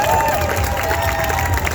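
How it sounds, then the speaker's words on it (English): A convention panel audience applauds and cheers for Bo-Katan, a steady, dense wash of clapping and crowd noise filling the space throughout. "how about a round of applause for Bo-Katan"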